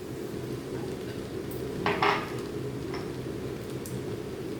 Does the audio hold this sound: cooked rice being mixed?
yes